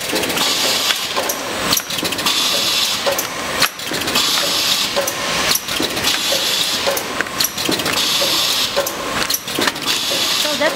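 A doypack packaging machine with a 10-head weigher runs continuously, its steady mechanical clatter and hiss punctuated by repeated sharp clicks and thumps, loud and close throughout.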